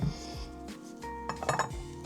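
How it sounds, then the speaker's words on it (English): A crystal cut glass vase gets light knocks, giving a few faint clinks followed by a soft ringing tone that lingers at low volume. "you can just give it a little knock and you can hear the sound. It sings basically."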